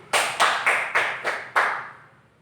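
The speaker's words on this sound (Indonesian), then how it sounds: "tepuk tangan dulu Pak Lahdi" Six separate hand claps in a classroom setting, sharp and close, spaced a little irregularly over about two seconds with brief decays between them.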